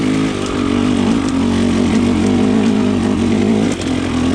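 A KTM 300 XC TPI two-stroke dirt bike with a low-compression head insert runs in third gear. It gives a steady, close buzzing engine drone with small surges in throttle and no voices.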